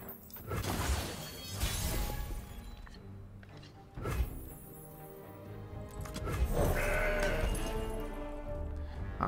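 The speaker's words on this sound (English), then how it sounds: "Alright, we'll go with the Mountain Goat." A Mountain Goat card in the Legends of Runeterra video game plays with bleating goat calls, several loud bleats rising over game sound effects and clattering mechanical tones, with no talking.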